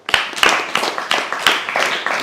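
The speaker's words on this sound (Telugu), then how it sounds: "ఒక క్లాప్స్ అందరు." A small group claps together for an orphaned child at an orphanage, a short burst of uneven, close hand claps without talking.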